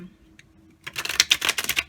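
A deck of tarot cards is shuffled in a quick burst of crisp, rapid riffling clicks lasting about a second, heard close up after a short quiet pause.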